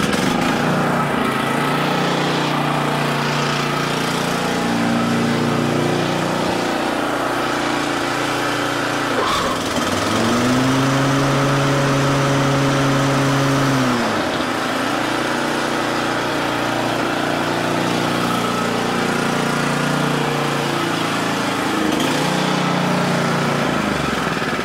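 A 30-inch lawn mower engine runs steadily and loudly at close range with no one talking, its drone dipping briefly in pitch around the middle before settling back to an even, continuous hum.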